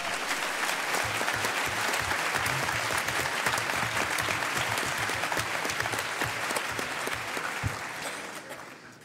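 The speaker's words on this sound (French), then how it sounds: "vous pouvez quand même applaudir ces personnes parce qu'elles ont fait un boulot de fou" Sustained audience applause fills a conference hall honoring a citizen energy transition team, dense and steady for about eight seconds before tapering off, with no talking over it.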